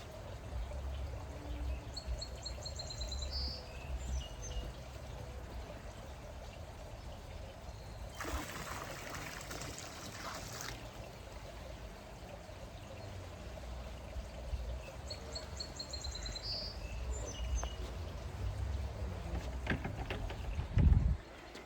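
Water pours and trickles from a chemical measuring cup being rinsed into a gunite pool, a faint, steady outdoor stream with a brief louder splash in the middle and birds chirping now and then.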